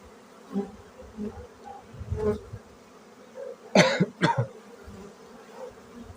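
Honeybees hum and buzz steadily at close range at the hive in spring, with a couple of brief coughs cutting in partway through.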